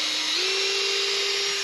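A power drill whines steadily and loudly up close while boring bolt holes for a budget Starlink mount on a vertical 2x4, the pitch rising slightly as it runs.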